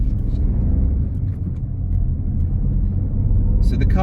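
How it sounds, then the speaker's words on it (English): A Ford Fiesta 1.0 EcoBoost Titanium X manual petrol hatchback pulls away, giving a steady, close, low engine rumble that holds evenly throughout, with a brief higher sound at the very end. "So the car pulled away nicely there."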